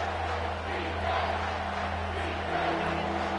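A stadium crowd roars in a College Football 25 game, a loud, sustained wash of cheering and shouting under a commentator's voice.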